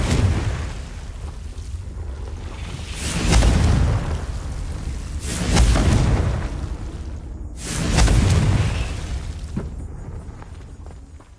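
Confringo fire spell blasts from Hogwarts Legacy: three heavy booming bursts roughly two to three seconds apart, each swelling and fading over a low rumbling background, with no talking.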